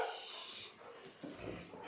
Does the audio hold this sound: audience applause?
no